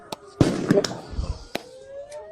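Flashbang grenades going off during a protest: a few sharp, loud bangs in quick succession with crackling bursts between them, then one more isolated blast, close by.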